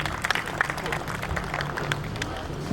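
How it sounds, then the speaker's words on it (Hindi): An audience at a school Teachers Day celebration claps, a steady patter of applause at moderate level, with faint crowd murmur underneath. "तालियां बजा दो"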